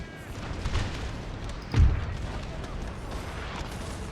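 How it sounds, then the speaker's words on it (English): Artillery fires in a Napoleon Total War battle, with muffled distant booms thudding out irregularly, one heavier blast standing out midway over a steady low rumble. "The idea will be that the artillery will continue to fire on these guys."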